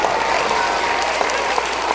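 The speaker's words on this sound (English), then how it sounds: "Give her a big round of applause." Dense, steady applause from an audience at a school assembly fills the whole stretch, even and continuous without pauses.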